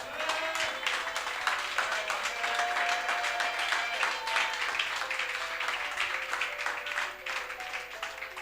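A church congregation bursts into sustained applause and cheering to acclaim the Lord, a dense, steady wash of many hands clapping at once that fills the room for several seconds, with faint voices rising within the crowd.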